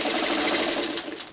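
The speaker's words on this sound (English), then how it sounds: "I'm going to sew the top first" A sewing machine stitches the top of a coffee-pot quilt block in directional fabric, a continuous, fairly quiet mechanical whir with a rapid needle rhythm that eases off near the end.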